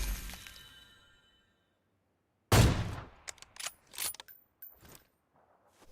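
A burst of sharp gunshots after a moment of silence, then several scattered cracks and bangs at irregular intervals, close and loud, from an AWM sniper rifle in PUBG Mobile.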